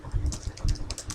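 Rapid keystrokes on a computer keyboard while entering program code, a quick irregular run of close, light clicks with no talk.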